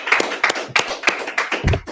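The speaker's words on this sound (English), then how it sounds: "let's clap it up" Several people clapping hands in a quick, loosely synchronized rhythm, about six sharp claps close by in a small room.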